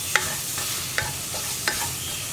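Tomato and spices cooking in a pan for kadala curry: a continuous soft sizzle with three distinct spatula scrapes at a slow, even pace.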